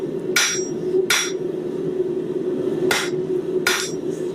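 A hammer strikes steel near the edge of an anvil in glancing blows, giving four sharp, separate metallic hits over a low steady hum in a forge workshop.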